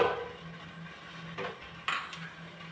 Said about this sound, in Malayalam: ഇനി ചോറ് വെക്കാൻ വേണ്ടി നമുക്കൊരു പാത്രം അടുപ്പത്ത് വെച്ചിട്ട്